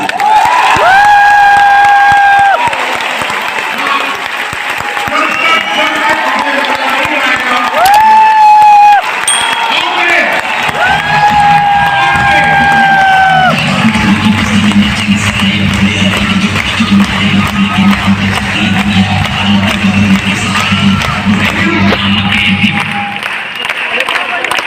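A large crowd at a Rootpure Diamond promotion event in India claps and cheers loudly and continuously, with shouts and music-like tones running underneath the steady roar of applause.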